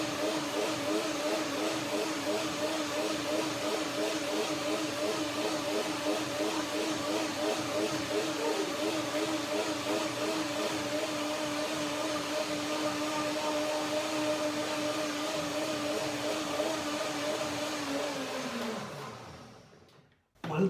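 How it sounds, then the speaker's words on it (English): A blender whirs steadily for about eighteen seconds as it purees a walnut, fig and ginger cream dressing, its motor pitch wavering slightly before winding down and stopping. "One can almost hear when the blender is done, gets an even sound"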